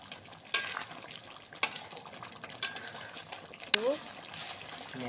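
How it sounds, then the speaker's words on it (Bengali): Fish being lightly stirred in a cooking pan, with sharp utensil clinks and scrapes recurring every second or so over a soft frying hiss and faint trickling. "মাছটা দিয়ে মাছটাকে হালকা একটু নেড়ে"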